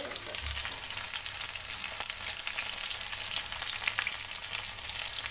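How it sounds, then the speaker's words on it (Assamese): Food frying in a pan over medium heat while cooking a bitter gourd dish, a steady close sizzle and crackle running throughout with faint stirring clatter and no talk. "এতিয়া মই মিডিয়াম হিটত এইখিনি ফ্ৰাই কৰি ল'ম"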